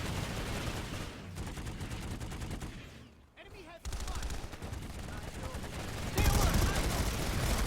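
Rapid gunfire and bursts from a PlanetSide-style video game match between clans TCM and 1RPC, a light assault player shooting out a window; dense, loud, continuous shots with a brief lull, under a speaking voice.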